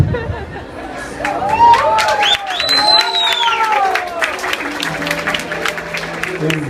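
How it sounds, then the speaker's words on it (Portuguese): Wedding guests applaud at a sister's wedding tribute, lively sustained clapping with chatter and cheering voices mixed in among the crowd. "Mais palmas, gente!"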